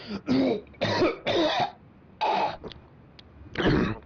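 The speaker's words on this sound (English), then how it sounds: "You're clearing your throat way too" A person clearing their throat repeatedly, a series of loud, close, rasping bursts separated by short silences, with no talking.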